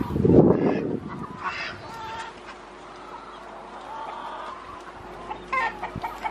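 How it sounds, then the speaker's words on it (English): Chickens cluck and squawk nearby, a loud burst at the start followed by scattered softer clucks and rustling over steady outdoor background noise. "This is actually Cal's first experience with these chickens"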